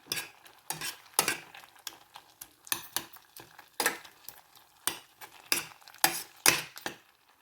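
Boiled tomatoes with turmeric being mashed in a pot for Sri Lankan milk curry, irregular soft squelches and sharp utensil knocks against the pot, close and fairly quiet with short pauses between strokes.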